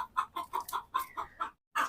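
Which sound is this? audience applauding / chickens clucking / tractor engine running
chickens clucking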